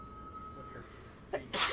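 A single sharp sneeze bursts out near the end, loud and close, preceded by a quick intake of breath, with a faint game soundtrack humming underneath and a brief bit of talk earlier.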